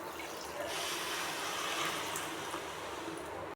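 A bowl of water is poured onto sugar in a heavy pan for Mysore pak, a steady close splashing rush of liquid that runs unbroken for a few seconds with no voices over it.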